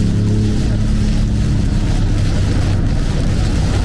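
Toyota GR Yaris Track Pack engine running through a valveless Akrapovic exhaust, giving a loud, raspy, continuous deep rumble that holds steady throughout, close and dominant.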